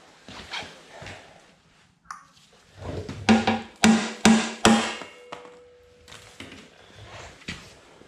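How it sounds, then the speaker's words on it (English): Hammering out a bent snowblower auger housing part, sharp metallic blows in a quick run of four loud strikes, preceded and followed by scattered knocks and handling clatter, close by. "I'm gonna have to hammer that out."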